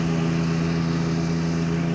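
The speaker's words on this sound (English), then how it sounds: "Buddy Noddy on the next lake driving past on a noisy fucking lawnmower" A noisy lawnmower engine drones steadily on a neighbouring lake, a constant low hum that holds level across the whole stretch with no talk over it.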